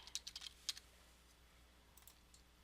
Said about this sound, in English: I'm going to type in Teaching Academy.